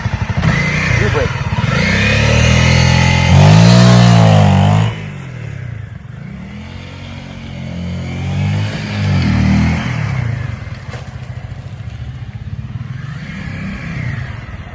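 A motorcycle revs hard and launches quickly in first gear, a loud rising engine roar that falls away before a second rev, while a rider talks over it.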